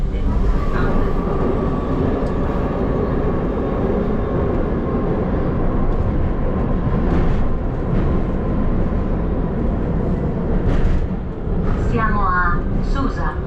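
A Milan metro train rumbles steadily as it runs, with a constant low roar and occasional squeals and clatters; voices murmur faintly at times.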